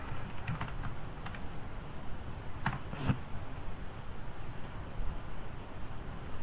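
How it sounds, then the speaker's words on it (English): A password is typed on a computer keyboard: a few quick, light key taps in small clusters, close but soft, over a steady faint background hiss with no talking. "Basically, I will type the password."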